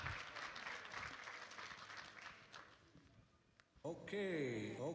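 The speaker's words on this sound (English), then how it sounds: "Everybody give Yolanda Old Dwarf a round of applause." Applause from a fashion show audience at a pride walk event, a dense wash of clapping for most of the moment that fades, then a voice speaks loudly over the tail end.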